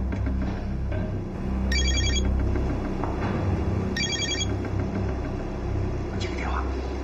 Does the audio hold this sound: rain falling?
no